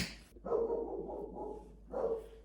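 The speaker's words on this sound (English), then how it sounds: "If y'all hear Swizzle barking, mind your business." A dog barks several times in deep, drawn-out woofs, fairly close, with short pauses between barks and no talking.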